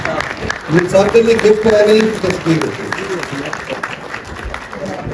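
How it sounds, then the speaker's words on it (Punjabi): An audience at a Punjabi debate event applauds its guests with a burst of clapping that swells and then fades, while someone speaks over it. "ਆਪਣੇ ਮਹਿਮਾਨਾਂ ਦਾ ਉੱਠ ਕੇ ਤਾੜੀਆਂ ਨਾਲ ਜ਼ਰਾ ਇਹਨਾਂ ਨੂੰ ਵਜਾਓ"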